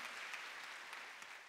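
Church congregation applauding during a Wednesday worship service at Jesus Central Church, a steady, dense clapping that runs throughout with no pause or voice over it.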